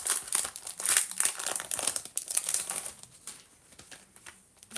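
Plastic packaging crinkles and crumples as a die cutting bundle is unwrapped, a close, busy run of rustling that thins out toward the end, with no talking.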